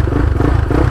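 A Honda Twister motorcycle fitted with a 79 mm big-bore kit rumbles close by, a steady, throaty low-pitched engine note with a slight clattery texture throughout.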